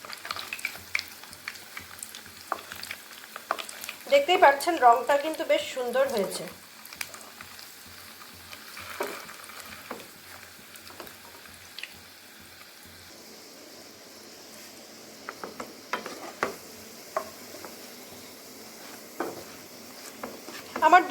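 Semolina rasbora fritters sizzle and crackle steadily in hot oil as a sweet is fried, with brief flurries of stirring and a voice speaking briefly over the frying.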